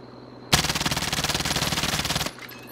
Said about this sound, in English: I'm going to shoot without controlling the recoil pattern with both guns